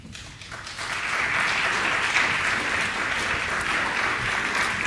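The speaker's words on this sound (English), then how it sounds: "we just love the applause" An audience claps steadily, a warm wash of applause that swells in the first second and holds evenly to the end.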